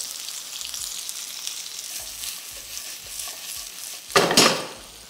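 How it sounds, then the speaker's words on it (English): Breadfruit seasoned with salt and black pepper frying in oil in a pan for a curry, a steady crackling sizzle throughout with a louder burst of scraping and stirring near the end. "I just want to fry this off for about 8 to 10 minutes"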